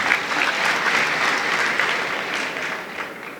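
A crowd applauding, a dense, steady patter of many hands clapping at once, loud and sustained for several seconds.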